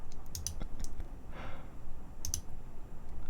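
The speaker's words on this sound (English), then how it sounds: "please ignore any mouse clicks you hear" Sparse, crisp computer mouse clicks in an ASMR storytelling setting, small close taps in two loose clusters with a soft breath between them.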